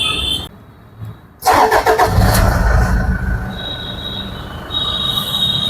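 A 2015 Toyota Fortuner 4x4 from Delhi sits quiet, then its starter cranks briefly and the engine catches into a steady close idle that swells slightly near the end.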